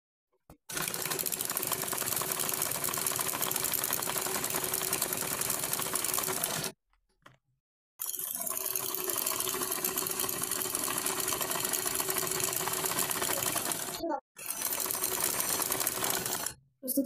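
An electric sewing machine stitches the sides of a woven rice sack bag, running in a steady, fast mechanical whir for several seconds at a time, stopping briefly twice before starting again.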